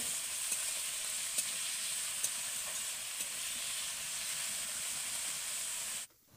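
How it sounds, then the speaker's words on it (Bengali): Diced potatoes fry in a pan for suji upma, a continuous hissing sizzle with soft scraping clicks from stirring, which stops abruptly near the end. "আলুটি আমি প্রথমেই দিয়ে 2 থেকে 3 মিনিট নাড়াচাড়া করে নেব"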